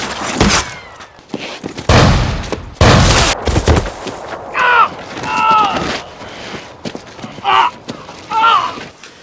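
Booming shotgun blasts from the post-apocalyptic film The Book of Eli, several loud, sharp reports in quick succession early on, followed by scattered action noises and brief voices.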